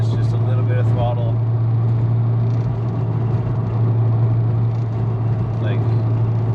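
An MK4 VW Jetta wagon with a big-turbo 8V engine cruises at light, steady throttle, a constant low engine drone and road rumble filling the cabin while someone talks throughout.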